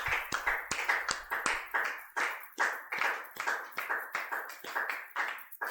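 Congregation at a French-language church service applauding in a steady run of rhythmic hand claps, close and fairly loud, with no talk over it.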